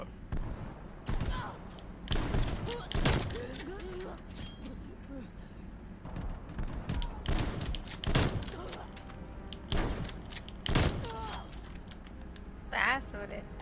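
Shotgun and pistol shots in a video game custom match, a string of sharp bursts spread through the clip, some close and loud, under steady talk from players.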